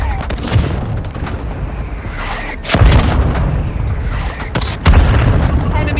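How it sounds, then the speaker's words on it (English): Mortar strike explosions land in the mobile shooter Warzone Mobile, heavy booming impacts rolling one after another amid dense battlefield noise, with a couple of sharp nearby hits standing out. "Mortar support incoming. Copy. Mortar strike inbound now."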